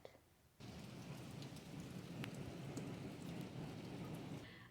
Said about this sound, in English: I am back inside because it has been pouring rain outside